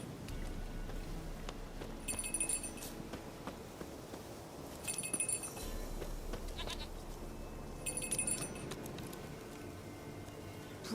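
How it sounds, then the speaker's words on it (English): A goat in The Witcher 3 bleats three times at roughly three-second intervals, each call short and mid-loud, over a steady bed of ambient game background noise with no talking. "Goat of mine, dearest,"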